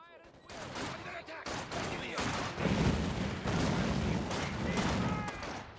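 Maxim machine gun in a video game battle, with rapid bursts of fire building into a loud, sustained fusillade amid other battlefield booms.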